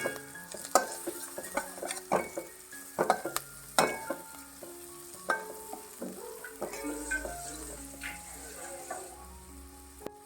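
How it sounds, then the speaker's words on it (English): Turmeric powder and green chili sizzle and fry in a pan as a Goan dry fish curry begins, with loud stirring scrapes and clinks in an irregular rhythm over a steady sizzle, close up and without talk. "turmeric powder and green chili. Saute little while."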